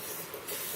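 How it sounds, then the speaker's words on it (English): A short, close hissing blast of WD-40 spray onto a Yamaha Jog scooter engine part, a steady breathy aerosol rush lasting under a second. "Spray it generously with some WD-40."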